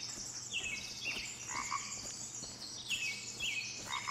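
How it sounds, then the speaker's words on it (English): Birds chirp and trill in overlapping high calls over a low steady ambient hum, with croaking frogs mixed in, fairly faint and continuous, in the Blair Witch horror video game. "these birds are chirping loud"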